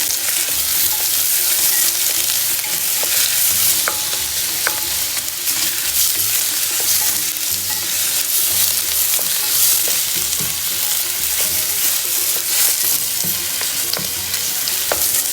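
Meat and vegetables for Moroccan couscous fry in a pan while being stirred, giving a steady, close sizzle with scattered scraping and clinking of the utensil throughout, with no voices.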